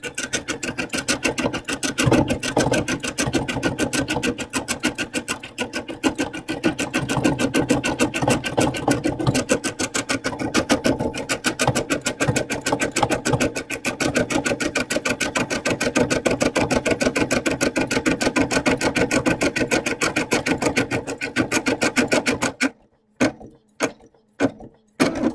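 An embroidery sewing machine stitching a helmet pattern, its needle hammering in a fast, steady mechanical rhythm close up for over twenty seconds before stopping into a few isolated clicks.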